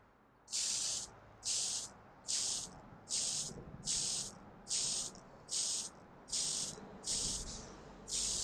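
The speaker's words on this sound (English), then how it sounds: "you just want to try to get a nice even coat over your piece, constantly moving your piece as you spray" An airbrush sprays paint onto a Gunpla model piece in nine short, evenly spaced hissing bursts, each about half a second long, close and clear over a faint background.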